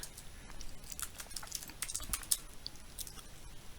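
Rapid, light clicking of keys on a computer keyboard, a quiet irregular patter of keystrokes typed close by with no voices.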